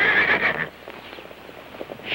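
A loud, shrill whinny from a horse among pack horses opens the scene, then fades into a quieter stretch of faint thuds and shuffling, like hooves moving on the ground.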